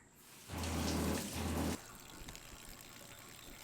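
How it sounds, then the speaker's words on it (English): Water gushes from a newly plumbed sink faucet in a food trailer, a loud steady rush lasting just over a second with a short dip midway, then cutting off to quiet. "Good water flow."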